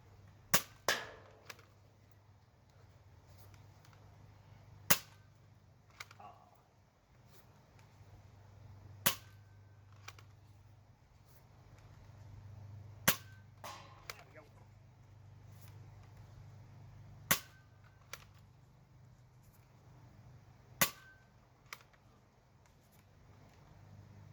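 A Nerf Hot Shock pistol fitted with Finland Nerf Works brass parts firing at an outdoor range, several sharp, separate snaps spaced seconds apart over a low, quiet background hum.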